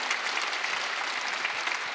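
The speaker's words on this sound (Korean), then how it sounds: "박수 좀 세게 치세요" A church congregation at a Sunday worship service clapping together, a steady, dense patter at moderate distance that holds evenly throughout.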